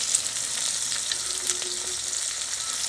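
Rohu fish sizzling in hot oil in a pan, a steady close frying hiss with scattered crackles and pops running throughout, no voices.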